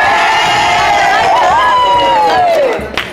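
Crowd at a bingo session at Thermas de Salgadinho cheers and shouts loudly for the winners, with raised voices rising and falling together before tapering off near the end.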